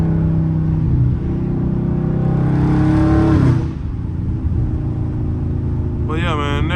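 A car engine revs hard and climbs in pitch before easing off, heard fairly close with people talking over it.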